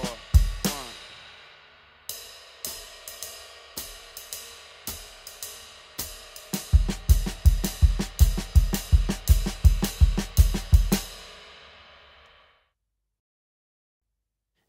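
A drum kit plays paradiddles over a jazz pattern, starting with the left hand. Crisp cymbal and snare strokes are followed by a steady run of punchy low drum hits in an even rhythm. The hits stop abruptly, then a brief silence follows.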